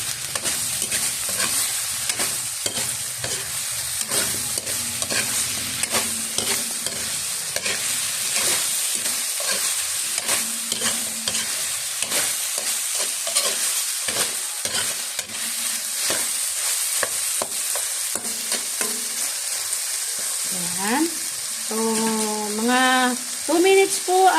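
Sliced chayote (sayote) stir-fried in a pan as a simple Filipino vegetable dish, giving a steady loud sizzle throughout with scraping and stirring clatter, and no talk.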